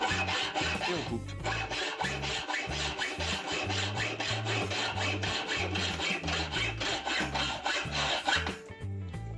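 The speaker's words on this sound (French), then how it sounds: "Ensuite, on chope la scie à métaux." Hacksaw cutting through an aluminium microphone stand tube, repeated back-and-forth rasping strokes in a steady rhythm, close and loud, stopping briefly near the end.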